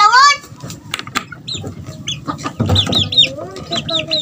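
Gamefowl chickens at feeding time on a small breeding farm, clucking and giving high calls close by, repeated in irregular bursts with some voices and handling noise.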